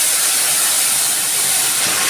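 Water poured into hot oil with cumin seeds and turmeric powder sizzles in a steady, loud, broadband hiss that holds for about two seconds, with no voices.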